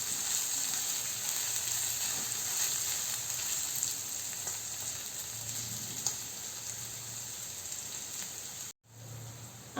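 Onion, peas, cashews and masala sauté in a pan for a paneer dish, a soft continuous sizzle and crackle throughout, briefly cutting out near the end.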